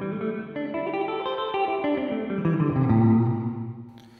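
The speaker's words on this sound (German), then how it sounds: "Hört sich das mit Hall doch ein bisschen besser an" An electric guitar rings out through a reverb effect, a sequence of picked notes swelling into a lush, echoing wash that lingers and fades away alone.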